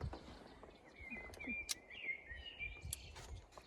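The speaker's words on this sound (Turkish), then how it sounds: "kuş sesleri eşliğinde." Faint birdsong chirps and trills drift in from a distance at a seaside cove in Turkey, over outdoor background noise with scattered clatter.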